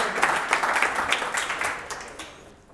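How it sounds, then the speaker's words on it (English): An audience claps in applause at a sales talk held in an office event space. The clapping is fairly close and dense, then fades away toward the end. "Maybe a round of applause for all of them."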